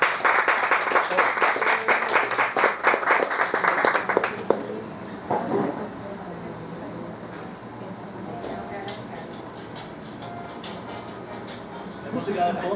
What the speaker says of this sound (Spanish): Un aplauso para ella y bienvenida.